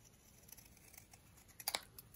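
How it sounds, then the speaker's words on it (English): Scissors snipping through paper while cutting a frame piece for a handmade tri-fold window album: quiet, close, crisp crunching cuts, with a sharper cluster of snips near the end. "I'm going to grab my scissors and I'm going to cut from this corner here to that tip there."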